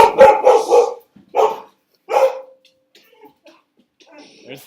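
A Labrador barks three times in close, loud bursts, the last trailing into a short whine, followed by faint rustling and small sounds.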